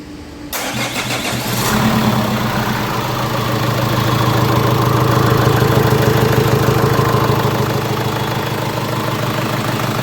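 A Renault Master 2 van engine cranks briefly, catches, and settles into a loud, steady diesel idle with an even rumbling throb, heard close up with no talking.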